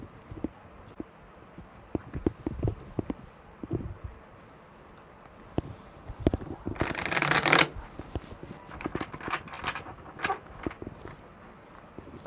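Tarot cards are shuffled by hand close up, with soft scattered riffles and taps, a louder dense burst of shuffling midway, then quieter shuffling and light handling noises.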